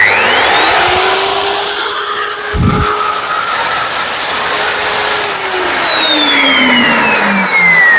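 A stand-type core cutting machine for drilling holes in walls and concrete runs loud and steady, its motor whining at a constant high pitch with a brief thump partway through, no voices.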